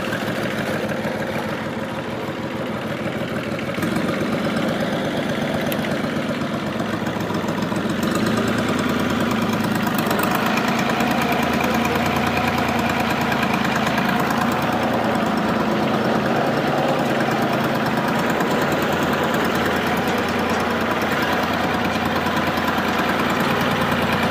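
A tractor engine idles steadily on a farm during a marigold harvest, giving a continuous, fairly loud low rumble with a faint knocking throb that stays close and unbroken throughout, with no talking.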